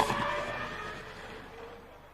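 A 2002 Formula One car engine at full revs, over 18,000 rpm, approaching a chicane at the European Grand Prix, loud at first and then fading as it moves away, with no voices.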